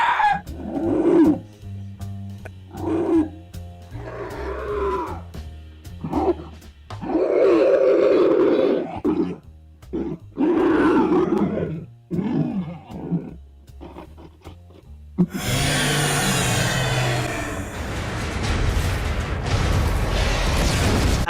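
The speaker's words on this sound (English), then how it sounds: "Guys in the studio making this weird monstrous sounds" Human performers in a studio growl and roar as video game monsters, voicing a string of rough bursts with short pauses between them. A denser, sustained roar follows near the end.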